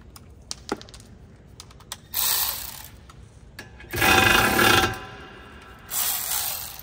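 Ratchet or wrench working on the rear caliper bracket bolts of a Ford Transit 250/350, with scattered metallic clicks and three separate bursts of rapid ratcheting, close and moderately loud.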